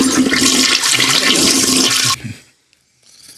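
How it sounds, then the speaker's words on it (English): A toilet flushes loudly and close by, a strong rushing gush that cuts off abruptly into near silence, then a faint trickle as the tank begins to refill. "would a flush not work either? The flush was working."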